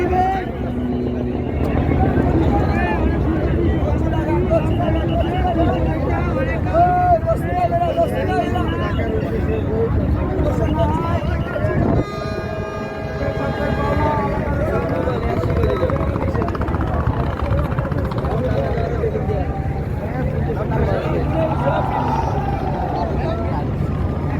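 River passenger launches, among them Adventure-9, race crowded with passengers on the way to Charmonai Mahfil 2025, a loud steady engine drone with wind rush running under constant crowd chatter and nearby voices.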